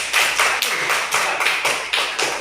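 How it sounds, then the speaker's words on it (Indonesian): A classroom of pupils claps in a steady, rhythmic pattern of sharp, close claps, repeated about eight times in quick succession. "Tepuk tangan untuk Kenan dulu, ya."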